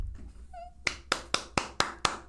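Seven sharp hand claps in an even rhythm ring out close and clear, preceded by a short high-pitched squeak.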